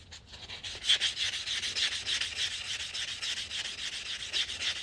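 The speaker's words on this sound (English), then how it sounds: "So we're going to go ahead and file this cut edge." Steady, raspy metal file strokes work the cut edge of a fine silver coin ring, a close, continuous scraping with a quick rhythmic rasp and no talking.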